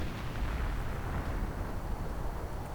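Artillery fire in a World War II strategy game, heard as a dense, continuous rumbling barrage of overlapping booms and crackles with no distinct pauses.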